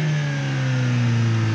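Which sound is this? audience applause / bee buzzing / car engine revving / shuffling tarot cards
car engine revving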